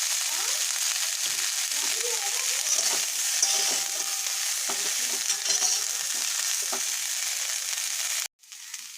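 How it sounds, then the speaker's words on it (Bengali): Cauliflower frying in a pan with turmeric, a steady close sizzle with scraping stir clicks throughout, cutting off abruptly near the end before a brief quieter resumption. "দেখুন আমার ফুলকপিটাও ভাজা হয়ে গেছে।"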